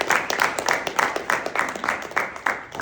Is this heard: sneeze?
no